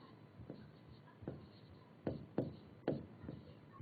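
Pen on paper writing an answer heading in a classroom lesson, a string of short close scratching strokes and taps with quiet pauses between them.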